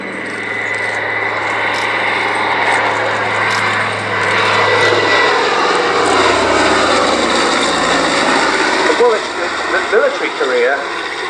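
Loud, steady droning engines of a Catalina flying boat in flight at an airshow fill the whole stretch, with a broadband roar and a low hum that wavers slightly toward the end.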